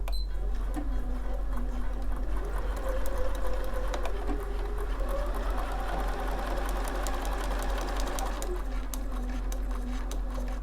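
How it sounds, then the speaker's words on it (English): Sewing machine stitching fabric pieces for foundation paper piecing with a hemstitch attachment, a rapid steady mechanical patter running the whole time over a low motor hum, close and moderately quiet, with no speech. "again I'm going to sew from the edge right the way down"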